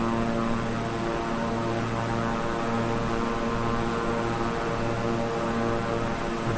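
Propeller engine drone of a Beechcraft 350i King Air in Microsoft Flight Simulator, a loud, steady, continuous turboprop hum with a constant pitch throughout.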